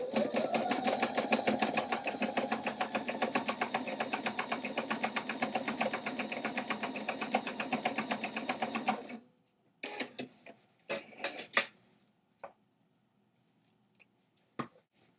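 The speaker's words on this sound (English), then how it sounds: "You can zigzag over it twice for extra stability and less chance of fraying." A sewing machine zigzag stitching a jeans hem, running steadily for about nine seconds with a fast rhythmic needle chatter, then stopping, followed by a few scattered clicks and handling sounds.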